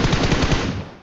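Rapid automatic M4 rifle fire in a shooter video game, a dense loud burst of repeated shots that trails off toward the end.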